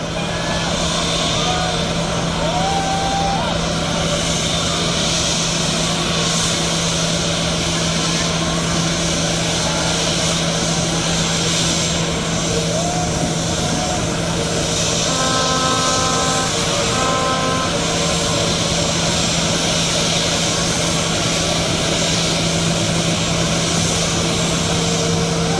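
Aircraft at JKIA airport after landing, a loud steady engine drone with a constant hum running throughout, under intermittent crowd and voice noise.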